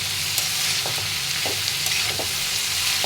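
Bitter gourd frying in a pan: a steady sizzle with periodic stirring scrapes from a utensil, close and continuous, no voices over it.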